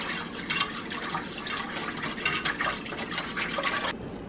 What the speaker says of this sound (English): you just continue to whisk this until it begins to thicken